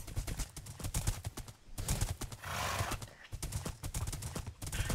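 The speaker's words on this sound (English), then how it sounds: "Let us ride our horses into battle" Rhythmic video game horse hooves clip-clop at a brisk, even pace, close and clear, briefly interrupted by a whooshing sweep midway.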